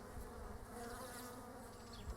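Honey bees swarm around a hive with a new colony and hatching brood, giving a faint, continuous buzzing hum from many insects close by.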